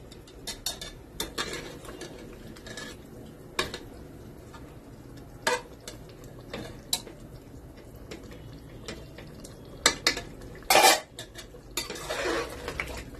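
Mutton korma being fried and stirred in a pot, a spoon scraping and knocking against the metal in irregular clatters, with louder clanks near the end and no talking.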